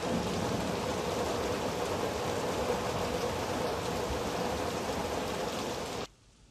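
Heavy, steady rain pours down in a scene from the dubbed Turkish film Emanet Kız. The dense, even downpour is loud and close with no voices, then cuts off abruptly near the end.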